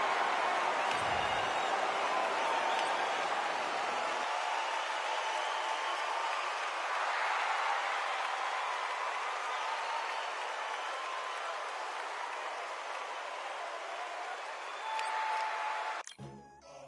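Arena crowd noise in a boxing video game, a steady broad roar of cheering that holds loud for about sixteen seconds before cutting off abruptly at the end, with no talk over it.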